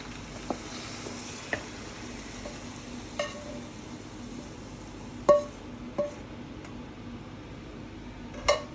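Thai ginger chicken (gai pad king) cooks quietly in a pan with a soft, low sizzle, broken by a few sharp clinks and taps of a utensil against the pan.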